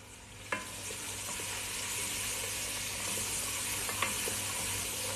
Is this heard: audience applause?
no